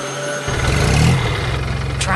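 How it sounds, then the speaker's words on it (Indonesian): A big farm tractor's engine fires up and settles into a rough, rumbling idle close by, with a faint swell as it revs. "Suara mesinnya menggelegar membuat seluruh pertanian bergetar."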